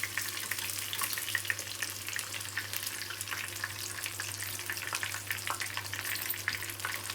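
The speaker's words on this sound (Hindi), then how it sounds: "यहाँ पर हमारी ये मछली फ्राई हो चुकी है" Fish slices frying in hot oil in a pan for fish curry, a steady close sizzle with scattered crackles and spits under a low background hum, no speech.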